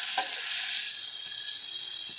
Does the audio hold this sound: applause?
no